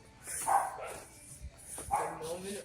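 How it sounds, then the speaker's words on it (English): A dog barks twice in short yips at moderate distance, each bark separated by a pause, with faint background noise in between. "Dog barking now."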